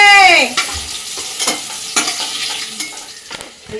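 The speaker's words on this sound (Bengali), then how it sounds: "ক্যাপসিকামগুলো হালকা ভেজে নিয়েছি" Capsicum sizzles and fries in a hot pan, with a spatula scraping and stirring in several sharp strokes over the steady crackle.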